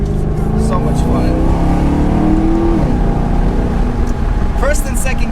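A 454 hp Maserati GranTurismo Sport, a rear-wheel-drive sports car, pulls hard under acceleration, its engine note climbing steadily for several seconds in a loud, continuous rumble with faint voice underneath.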